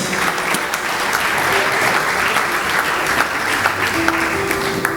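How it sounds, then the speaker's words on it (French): Steady, dense applause from an audience at a Congolese business after-work event on dedollarization, honoring the director general of the Hôtel des Monnaies; the clapping holds evenly and fairly loud throughout, with a faint murmur of voices beneath. "Nous applaudir le directeur général de l'Hôtel des Monnaies."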